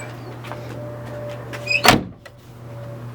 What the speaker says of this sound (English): I'm gonna shut the doors and then I'm gonna see if it works